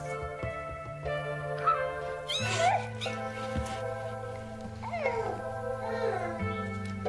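Several high, thin meows from young kittens, rising and overlapping at intervals over a steady low hum.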